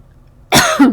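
A single sharp, close cough bursts out abruptly after a moment of near silence.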